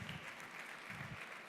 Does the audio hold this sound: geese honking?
no